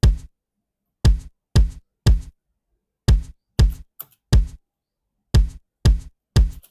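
An Afro House kick drum sample from the Afro House Universe 4 pack strikes about a dozen times in short, punchy, booming hits, spaced in an uneven groove with clean silence between them.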